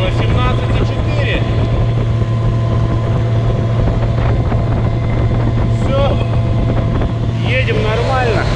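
A boat driven by a homemade electric outboard motor runs at full speed on a quarry lake, its steady motor hum and rushing water and wind constant and loud throughout, with a voice briefly heard.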